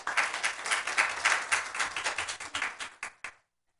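Applause at a school board meeting in honor of the custodial team, a modest group clapping fairly close by that thins to a few last claps and then stops abruptly.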